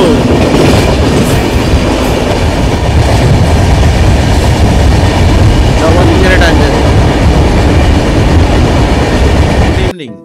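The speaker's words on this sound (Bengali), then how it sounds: "খুব স্পিডে ট্রেন যাচ্ছে" The 22612 New Jalpaiguri–MGR Chennai Central SF Express runs at high speed, a loud continuous roar with rhythmic clickety-clack of the wheels and strong wind, heard close up throughout before it cuts off abruptly.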